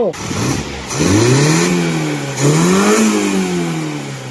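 A Mazda car engine with a newly repaired carburetor revs up close and loud, its pitch rising and falling twice, then settling toward a steady run.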